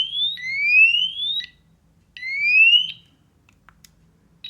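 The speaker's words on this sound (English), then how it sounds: "It beeps to say it's turned on." An electronic voltage tester on a multimeter gives two rising, sweeping tones, each about a second long and separated by a short gap, clear and alone against a quiet room.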